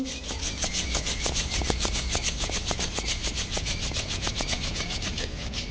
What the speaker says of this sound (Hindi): धीरे धीरे उंगलियों को हिलाएं, हाथों को रगड़ें।